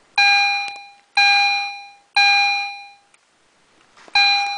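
An EST Genesis chime/strobe fire alarm sounds close and loud, ringing four bright chime tones about one second apart, each decaying before the next, with a short gap before the last one.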